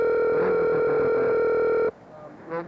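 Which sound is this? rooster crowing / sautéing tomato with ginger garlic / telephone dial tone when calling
telephone dial tone when calling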